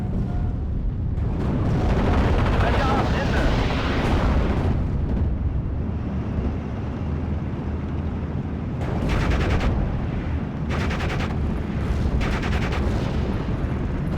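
Airstrike explosions in the WWII strategy game Steel Division: Normandy 44 during a Normandy Atlantikwall battle, with rolling, rumbling blasts followed by scattered bursts of gunfire.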